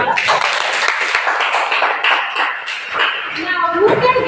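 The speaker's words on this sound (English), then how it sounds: "So let's give ourselves a hand of applause" Classroom applause during a mathematics demo lesson, a burst of clapping mixed with children's voices and chatter, fairly loud and close.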